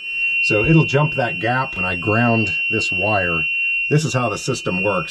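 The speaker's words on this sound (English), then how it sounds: "Sorry about the beeping, nothing I can do about it." Steady electronic beeping runs constantly beneath someone talking close by while he tests the coil on a boat's 454 big block engine, a high, thin tone that never lets up.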